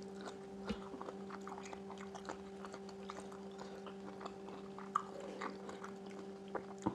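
Crunchy squid tentacles eaten with spicy Thai papaya salad and rice noodles, chewed close to the mic with soft, irregular crisp crunches and bites over a faint steady hum.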